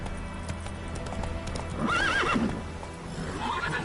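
A horse in Witcher III: Wild Hunt gallops with continuous clip-clop hoofbeats, then gives a loud, wavering neigh and a shorter whinny, all heard up close.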